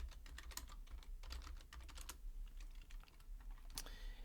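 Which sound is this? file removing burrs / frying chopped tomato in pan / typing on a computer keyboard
typing on a computer keyboard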